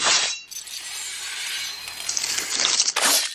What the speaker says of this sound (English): Wolverine's claws generally sound like this.